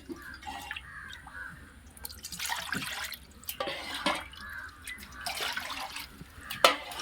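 Water for cooking rice in a chicken dum biryani is poured by the lota, six lotas in all, in a series of quiet splashing pours and drips heard close by, without speech.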